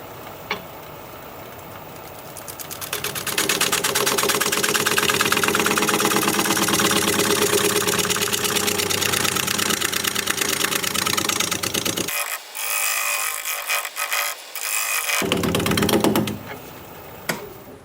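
A wood lathe spins a stump-wood piece while a scraper works the surface, giving a steady mechanical hum with fine rhythmic ticking, a short drop partway through, then a return to the running tone.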